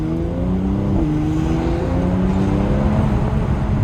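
An SUV engine drones loudly and steadily in Sport Plus mode, its exhaust note rising in pitch with a brief shift, echoing inside a tunnel.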